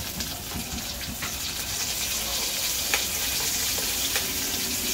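Garlic and onion frying in a pan make a steady, close sizzle with soft crackles and a few brief clinks, continuous throughout with no talking.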